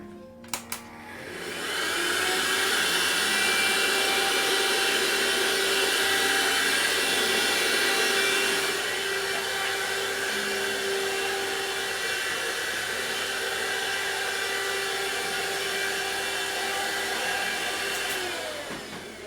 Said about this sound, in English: Let me just vacuum here as well.